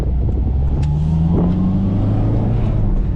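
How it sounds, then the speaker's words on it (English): Manual-transmission car engine heard from inside while driving through town, a steady loud drone with a rising then settling pitch as the driver downshifts to second gear for a turn. "when I come into a turn, I'm gonna downshift to second gear"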